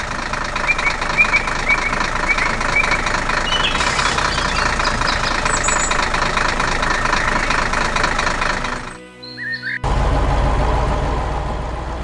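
A cartoon red tractor drilling into the ground in a forest makes a loud, steady, chugging engine rumble that cuts out briefly near the end and resumes heavier.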